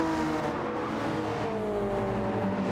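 A Porsche race car in the Ultimate Racing League video game holds a steady, continuous engine drone with shifting pitch, loud and sustained throughout with no pauses.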